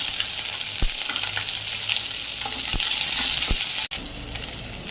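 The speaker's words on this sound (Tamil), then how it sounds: "கடுகு நல்லா பொரிஞ்சு வரணும்." Mustard seeds, curry leaves and green chilli sizzle in hot oil in an aluminium kadai for a Kerala-style prawn curry, a loud, steady, close crackle with a few sharp pops and a stir, no talking.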